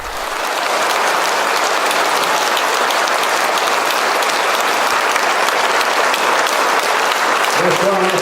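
A packed hall at Le Préau in Vire, Normandy, bursts into sustained applause as the old ORTF theme opens Michel Drucker's stage show. The clapping swells within the first second and stays dense and loud throughout, with faint music near the end.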